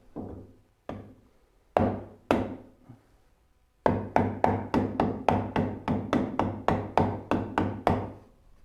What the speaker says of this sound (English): Let me get a rubber mallet because they don't tend to bruise the wood all that bad.